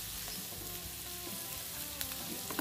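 Chopped onion sizzles and fries steadily in a hot frying pan while browning, a dense continuous crackle with a few small pops and occasional stirring, close and without talk.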